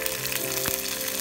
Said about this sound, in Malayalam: ഇനി 1 ടീസ്പൂൺ കടുക് മസ്റ്റർഡ് നമുക്ക് അരിപ്പിച്ച് കൊടുക്കാം.